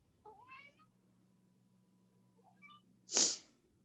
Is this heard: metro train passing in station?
no